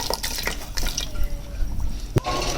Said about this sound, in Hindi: अब ये देखिए इसके अंदर मैं ये 1 लीटर के करीब मैं इसके अंदर पानी ऐड कर दूंगा।